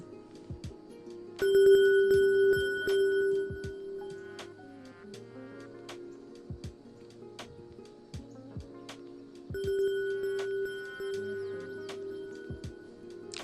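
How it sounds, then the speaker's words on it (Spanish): A single bell tone run through a six-tap variable multitap delay, producing two bursts of ringing, rhythmic repeated bell strikes that stack into a clattering pattern, each burst about two seconds long and separated by sparse echoing taps. "partiendo del sonido de una sola campana, que es este archivo, pero todo ese ritmo que se genera es por los 6 retardos que tiene sumándose"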